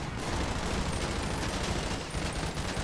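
Sustained gunfire from a GTA 5 roleplay police chase, a dense, continuous crackle of shots that fills the whole stretch at steady loudness, with no talk in the clip.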